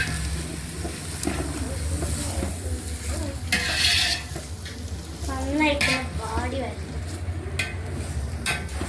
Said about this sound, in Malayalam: സവാള നമുക്കിത് മിക്സ് ചെയ്തെടുക്കാം.